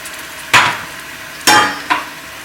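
Mutton and half a cup of oil hit a hot pot in bursts: three loud sizzling splashes, each flaring up and fading into a hiss, the second the biggest, with a lower background hiss between them.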